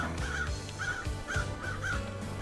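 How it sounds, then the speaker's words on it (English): Crows caw in the video game Paradise Killer, about five harsh calls in a loose rhythm over a low ambient game soundscape, moderately close. "There's a lot of birds."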